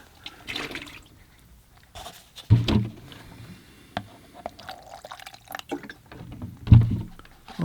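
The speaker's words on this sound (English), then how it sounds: "I'll put some fresh clean water in the container" Fresh clean water poured and sloshed into a watercolor painting water container, with splashy gurgling bursts, dripping and trickling between them, loud and close.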